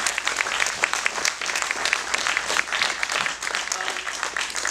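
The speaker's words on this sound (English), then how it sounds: "let's give the filmmakers a round of applause." Audience applause for the filmmakers after a post-screening Q&A at a Texas filmmakers showcase in Austin, a dense, steady wash of many hands clapping that carries on evenly throughout.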